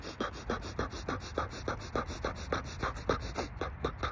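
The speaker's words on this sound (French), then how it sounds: "quand on est dans l'activité physique, vous pensez à respirer de manière rapide" Rapid rhythmic breathing demonstrated for physical activity, a quick panting pulse of about four breaths per second, close and steady, with no talk over it.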